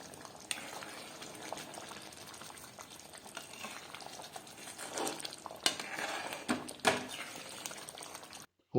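Air potato tamarind curry bubbling in a pot, a steady low simmering hiss with a few sharper pops and clinks near the end, fairly quiet and close.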